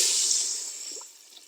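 Water being poured into a pot of chicken soup, a steady bright splashing hiss that gradually softens toward the end, close and with no talking.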